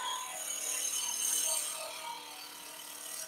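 Wood lathe spinning a turned piece while a tool roughs it down, a continuous high-pitched whirring scrape that swells in the middle and then eases off, faint and without talk.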